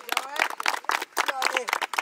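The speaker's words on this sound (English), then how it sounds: "Clap it up for him." Youth football team clapping for a player, short rhythmic bursts of hand claps from a small group mixed with voices, close and lively.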